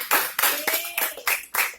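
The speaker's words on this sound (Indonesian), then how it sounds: "Oke, beri tepuk tangan." Accounting education students in a classroom clap in unison, six sharp, evenly spaced claps in a quick rhythm, close and fairly loud.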